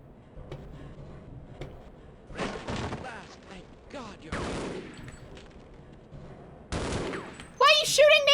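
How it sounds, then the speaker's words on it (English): Gunfire from a video game comes in separate bursts and single shots against a low, quiet background. A few louder volleys land in the second half, and a short electronic tone closes it. "Why are you shooting me?"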